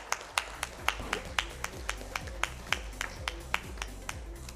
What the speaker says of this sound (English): Please, a round of applause for Dr.